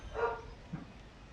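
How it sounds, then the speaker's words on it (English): A dog barks once at feeding time, a single close bark followed by a faint lower yip, with no talk over it. "my dog's decided to bark because it's feeding time"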